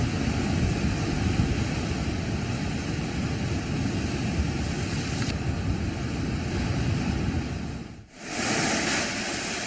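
A swollen river in flood, the Beas or Parvati in the Himachal Pradesh mountains, rushes past as a steady, dense broadband roar with a brief dip near the end, no voices.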